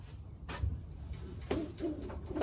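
Racing pigeons coo softly in a loft, a few low, muffled calls spread across a quiet background with faint rustling.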